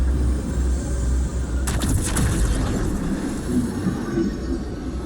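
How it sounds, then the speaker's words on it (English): A train rumbles past in Destiny 2, a loud continuous low roar with a sharp burst of clatter midway, steady and close throughout. "Of course it's a train"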